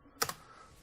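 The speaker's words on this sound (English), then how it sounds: "let's just open a terminal and type sudo apt update" Two quick keystrokes on a computer keyboard while entering a terminal command, crisp and close, followed by quiet room tone.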